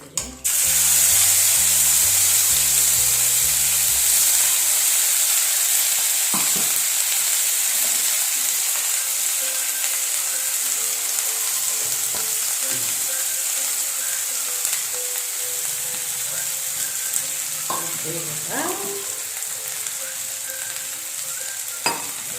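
Masala spices frying in oil in a pan, a steady hiss and sizzle running throughout, with occasional stirring clinks and scrapes; a low tone briefly opens it, no talking.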